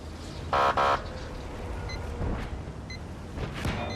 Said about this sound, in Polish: tu jakiś strzał we mnie poszedł, się odbił